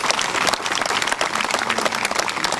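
Dense applause from an audience at a golf charity invitational, many hands clapping steadily and loudly throughout with no pauses.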